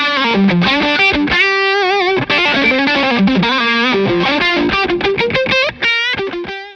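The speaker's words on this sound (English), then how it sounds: "There's loads of sustain, loads of saturation, and it's a really smooth, nice distortion to play." Electric guitar played through a Wampler Paisley Deluxe distortion pedal, a fat, mid-focused, saturated tone with long sustain, loud and alone, moving through a quick run of sustained notes and chords that ring out at the end.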